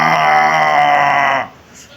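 A person imitates a goat's bleat with a loud, sustained nasal voiced cry lasting over a second, then stops abruptly.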